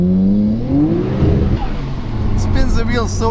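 Nissan Skyline GTR R32 accelerating with its wheels spinning, the engine note rising loud and close while the car pulls, as people talk inside the cabin.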